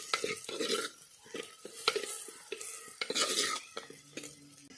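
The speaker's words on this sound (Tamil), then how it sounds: "நல்லா வணங்கணும் வெங்காயம்" Onions for mutton curry are sautéed in a pan, with repeated rhythmic scraping and clattering strokes of a spoon and a light sizzle underneath, heard close and without speech.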